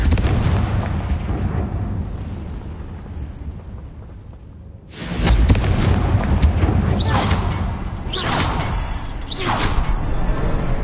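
Confringo blasting curse in Hogwarts Legacy: a loud, sustained rumbling blast with a sudden heavier boom midway, followed by several sharp crackling bursts over continuous roaring noise.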